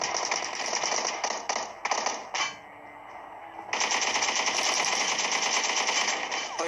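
Rapid automatic gunfire from a video game shootout between squads around a shipping container, loud dense bursts that break off briefly and then resume in a long sustained stream.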